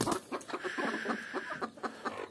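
A sick Adler rooster gives a close, rapid series of hoarse clucks and short strained calls, about a dozen pulses over two seconds, with no other voices.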